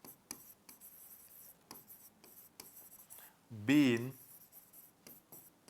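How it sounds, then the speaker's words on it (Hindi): Marker or chalk writing an example sentence on a classroom board, a quick run of short scratchy strokes and taps, close and fairly quiet, with a brief spoken word cutting in partway through. "एक तीसरा एग्जाम्पल यहां लिखता हूं मैं"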